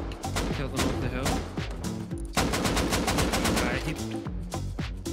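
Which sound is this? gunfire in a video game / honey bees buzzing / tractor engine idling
gunfire in a video game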